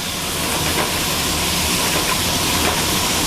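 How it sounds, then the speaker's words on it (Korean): Jjamppong with large seafood cooks in a wok over a fierce flame in a Jeju Wimi restaurant kitchen, giving a loud, constant roaring hiss of fire and steam with faint clatter underneath. "강력한 화력으로 빠르게 익히는 노하우, 중독적인 불맛까지 입혀 끓여내는데요."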